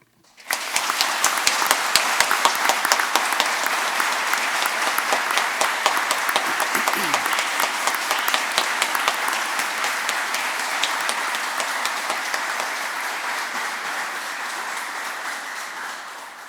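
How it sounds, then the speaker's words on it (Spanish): Sustained applause fills a hall at a swearing-in ceremony for new lawyers before the Supreme Court, beginning abruptly and continuing as a steady roar of clapping that slowly eases toward the end. "Aplaudamos este logro"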